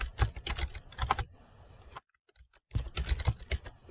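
A password being typed on a computer keyboard: close, clattering bursts of keystrokes, a fading pause, near silence, then another flurry of typing.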